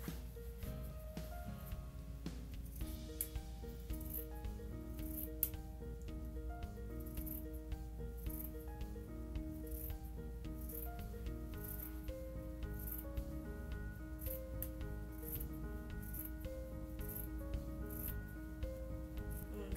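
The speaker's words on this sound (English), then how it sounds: "You're gonna cut the whole thing out." Scissors cutting out t-shirt fabric make a series of soft snips and rustling fabric sounds, quiet and close, over a constant low hum with no speech.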